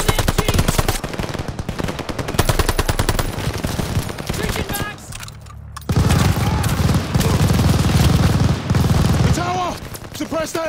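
Sustained machine gun fire rattles loudly and near throughout a WWII battle in Call of Duty Vanguard, rapid bursts packed together, with a short lull midway and shouted voices over the gunfire.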